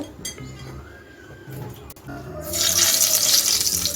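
Eggs hit hot white oil in a non-stick kadai for a Mughlai egg curry, and a loud, steady sizzling hiss bursts up partway through, after quieter kitchen clatter.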